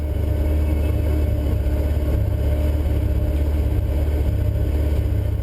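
Onboard cockpit sound of a Skoda rally car during the 2011 Sezoens Rally, its engine droning steadily and loudly throughout with a constant low rumble and no speech.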